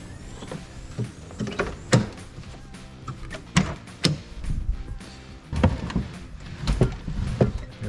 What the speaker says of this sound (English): Drawer system that comes out.